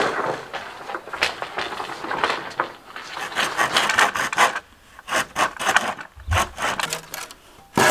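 A hand saw cuts through wood in rough, rasping strokes that come in bursts with short pauses, close and fairly loud while building a simple chicken coop in the countryside.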